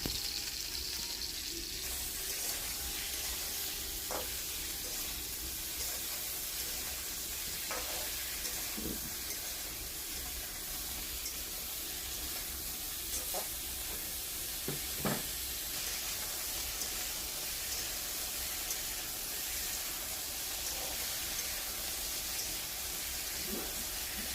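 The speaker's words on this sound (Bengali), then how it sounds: "কপি ভাজার সময় অবশ্যই গ্যাসের আঁচটা একটু মিডিয়ামে রাখার চেষ্টা করবেন" Cauliflower florets frying in a pan over medium gas flame, a quiet steady sizzle with occasional soft stirring clicks and scrapes across the whole stretch.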